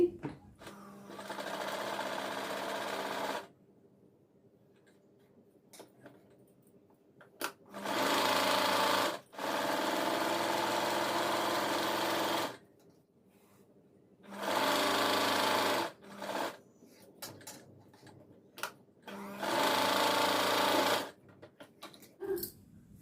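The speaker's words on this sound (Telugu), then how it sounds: "ఇక లైనింగ్ వెంబడి స్టిచ్ వేసేసేయండి లాంగ్ స్టిచ్" A sewing machine runs a long straight stitch along the lining of a blouse, in four sustained bursts of steady mechanical whirring separated by short quiet pauses.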